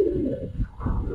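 Fancy pigeons at a loft give soft cooing calls, a brief low burble close by.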